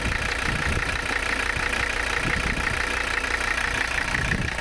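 A 1985 Mercedes 300CD engine idles with a steady, even hum and a continuous mechanical drone, close and unbroken, with no talking.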